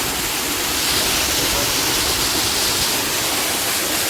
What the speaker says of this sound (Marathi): धबधबा.